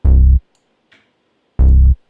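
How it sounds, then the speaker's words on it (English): The Roblox video game spawn sound plays twice: two short, loud, buzzy synthetic tones about a second and a half apart, with near silence between them. "The Roblox spawn sound like this."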